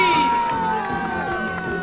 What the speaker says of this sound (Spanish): Aplausos, bueno. Gritos para Usupín, bienvenido Usupín.